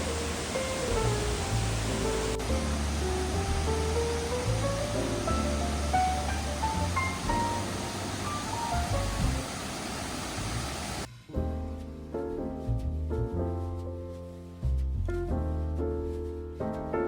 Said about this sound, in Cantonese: 克拉維察瀑布，瀑布十分宏偉壯觀。